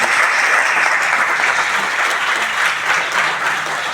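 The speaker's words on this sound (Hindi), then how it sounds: "आप सब लोग एक बार जोरदार ताली बजा सकते हैं।" Audience applause at a literary talk on the Delhi University North campus, a loud, dense, sustained clapping from a crowd that carries steadily without pause.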